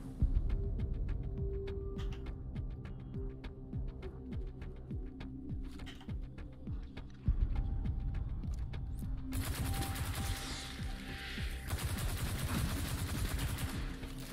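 Rapid, sustained gunfire from a weapon in the video game Destiny 2, bursts of sharp repeated shots over a steady low rumble, loud and close throughout, with a brighter, harsher burst of fire toward the end.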